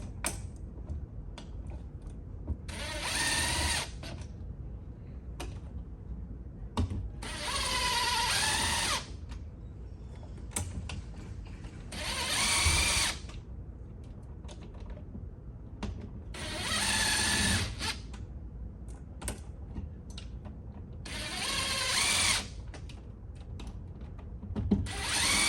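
A power drill drives screws while a triple switch is wired, sounding in several loud whirring bursts of a second or two, separated by quieter handling noises and clicks, close by with no talking.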